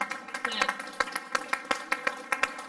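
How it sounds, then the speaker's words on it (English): Lecture audience gives a round of applause, with sharp individual claps standing out in a fairly regular rhythm over a steady tonal hum, moderately close. "So we'd like to give him one more round of applause."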